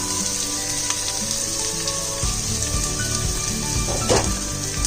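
Carrots dropped into a hot pan for veg spring roll filling, a loud, steady hissing sizzle that keeps up throughout, with a burst of crackle and stirring partway through.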